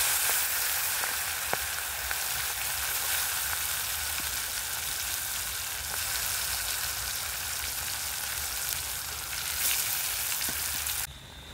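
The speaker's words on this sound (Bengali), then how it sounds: "প্রচুর গরম হয়ে গেছে তেল, পাতলা কড়া তো। দিয়ে দিলাম ম্যারিনেট করা মাংসটা।" Marinated meat hits very hot oil in a thin wok, setting off a loud, steady sizzle and crackle that fills the whole stretch without a break, with no talk over it.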